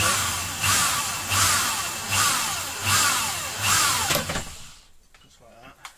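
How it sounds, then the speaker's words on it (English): A power drill with a carbide-tipped hole saw cuts stainless steel, whirring in repeated pulses, about five bursts with brief easing between, then cuts off and goes quiet near the end. "Good for drilling stainless steel."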